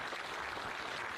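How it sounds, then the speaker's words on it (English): Faint, steady applause from an audience at an evening astronomy event aboard a museum ship, a soft continuous patter of many hands heard at a distance. "Everyone, one more round of applause for that."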